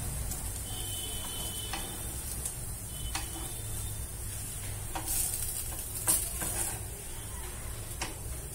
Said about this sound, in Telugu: ఇప్పుడు దోశ వేసుకొని చక్కగా క్రిస్పీ దోశ